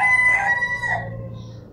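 A rooster gives a single loud, close cock-a-doodle-doo that trails off over under two seconds, alone without talk.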